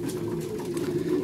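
Pigeons coo softly in a low, continuous murmur at a loft in Milicz, a faint, steady warbling with no voices.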